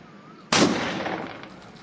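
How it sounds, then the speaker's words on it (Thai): A Stevens shotgun, recently repaired after a broken firing pin, is fired one-handed, giving a single sharp, loud blast that trails off in a long echoing decay. "ทนายก๊อฟเขาจะมาลองครับว่า อาจจะยิงมือเดียวได้ไหม"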